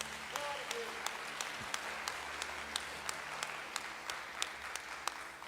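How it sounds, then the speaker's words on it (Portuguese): A church congregation applauds during a sermon, faint in the distance, with sharp claps in a steady, regular rhythm under a low murmur of voices. "Você pode aplaudir Jesus?"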